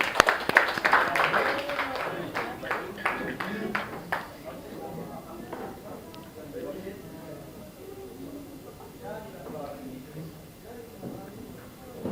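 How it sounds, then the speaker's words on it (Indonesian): A classroom group claps in a short burst of applause that fades after a few seconds, followed by murmuring voices and scattered talk. "Oke, tepuk tangan ya."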